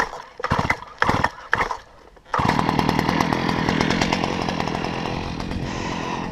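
A Stihl MS290 chainsaw is pulled a few times with no choke, then fires and settles into a loud, steady idle with a buzzing chain-saw drone that stays close and continuous, with no voices.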